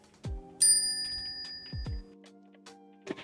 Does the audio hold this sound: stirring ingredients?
no